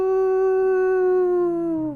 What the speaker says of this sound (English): A howl from outer space.